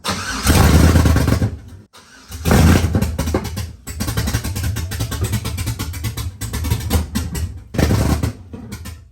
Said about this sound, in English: Start up.